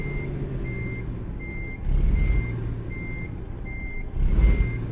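Truck reversing beeps in the American Truck Simulator game, a steady evenly spaced series of tones repeating about every three-quarters of a second over a low engine rumble that swells twice.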